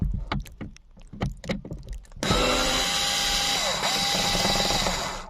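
A sunroof bolt on a Ford Mondeo MK3 is unscrewed by hand, giving a few sharp tool clicks and ratchet ticks, then a loud, steady power-tool whir with a varying high whine that runs to the end.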